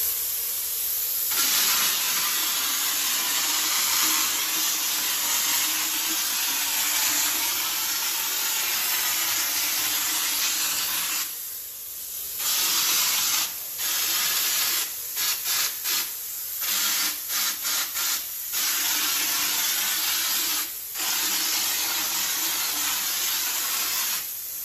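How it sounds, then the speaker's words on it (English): A texture sprayer blasts a light orange peel texture onto a wall in a steady, loud airy hiss, interrupted by several short pauses between passes as the figure-eight and cross-spray strokes are made. "and then I'll just do a little light cross spray"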